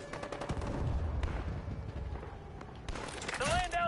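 Gunfire in a military shooter video game comes as bursts of close, rapid shots, rattling like automatic fire, over a dense battle rumble, with a sharp ricochet-like whine at the end.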